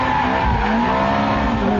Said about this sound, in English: Well, give the back out, get the front in, then punch the throttle.